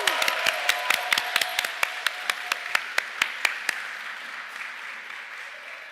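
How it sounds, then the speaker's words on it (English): Applause at a school awards ceremony in Birmingham Town Hall, a crowd clapping in a sharp, echoing hall, the claps thinning and slowing to sparse strikes before fading out. "Applause whilst this is happening."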